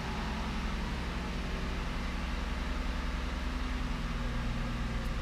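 Mazda CX-9 engine running at a steady idle after starting, a continuous low hum with broadband noise holding at an even, moderate level throughout, with no talking.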